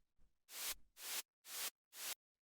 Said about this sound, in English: So what this is actually just some white noise.